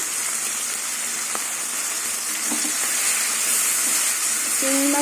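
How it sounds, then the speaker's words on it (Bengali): Prawns fry in a pan with a little chilli powder, giving a steady, close hiss of sizzling oil with a few soft clicks and stirring knocks near the end. "এবার চিংড়ি মাছটা ভেজে নেব"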